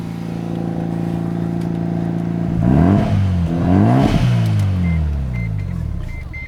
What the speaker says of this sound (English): these like straight through style exhausts are very, very loud on the rotary engines